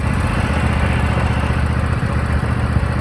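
A Toro Timecutter MX5060 zero-turn mower engine running, a loud, steady rumbling drone with slight rhythmic throb, close by and continuous with no talk.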